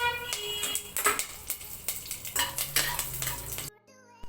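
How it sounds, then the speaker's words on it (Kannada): Mustard seeds, cumin and curry leaves hit hot oil for a pulao tempering, giving a busy sizzle with sharp crackles and metal utensil clinks close by, cutting off abruptly near the end. "ಎಣ್ಣೆ ಕಾದ ನಂತರ ಸ್ವಲ್ಪ ಸಾಸಿವೆ ಸ್ವಲ್ಪ ಜೀರಿಗೆ ಹಾಕಿ ಕರ್ಬೇವು ಸೊಪ್ಪು ಹಾಕ್ತೀನಿ"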